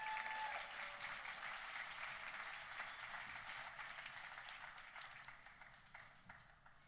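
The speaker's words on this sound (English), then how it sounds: "Please give a big round of applause" Steady crowd applause at a Florida State University national championship celebration, a dense wash of many hands clapping that holds throughout and tapers slightly toward the end.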